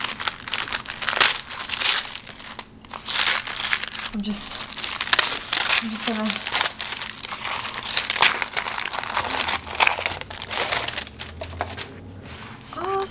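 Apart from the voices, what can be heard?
wrapping paper crinkling while unpacking a parcel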